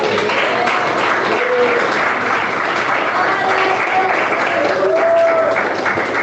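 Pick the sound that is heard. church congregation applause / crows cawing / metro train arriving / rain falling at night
church congregation applause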